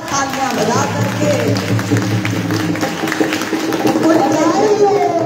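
An audience at a devotional celebration of Radha ji's birthday claps and cheers, a busy mix of scattered applause and crowd chatter with voices rising through it.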